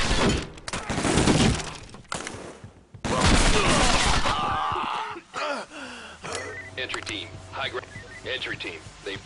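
Flashbang grenades going off during a SWAT 4 match, loud bursts and crackling blasts in the first four seconds giving way to quieter clattering and game sounds, with voices talking over parts of it.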